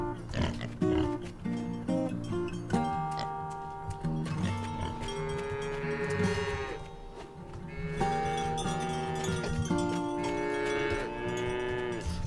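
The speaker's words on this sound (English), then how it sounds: "Oh, feeding the pigs." Pigs being fed in the farming video game Farm Together, with grunting and oinking under a steady bed of bright, melodic background music throughout.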